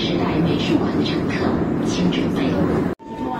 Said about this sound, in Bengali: মেট্রোটা গুয়াংজৌ সাউথ রেলওয়ে স্টেশনে যাবে।